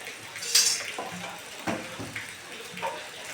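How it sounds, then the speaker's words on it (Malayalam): Marinated chicken tipped into a pan of softened onions for a roasted-coconut chicken curry, giving a few scattered clinks and a brief sizzling rush near the start, then soft stirring scrapes and light clatter at close range. "വാടി വരുന്ന ഉള്ളിയിലേക്ക് നമുക്ക് നരപ്പ് പുരട്ടി വെച്ചിരുന്ന ചിക്കൻ ചിക്കൻ ഇതിലേക്ക് ഇട്ട് കൊടുക്കാം"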